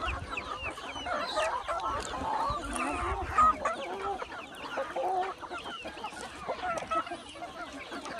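Free-range desi chickens on a village farm keep up a busy chorus of overlapping clucks and squawks, with a honking note mixed in and a voice faintly underneath throughout.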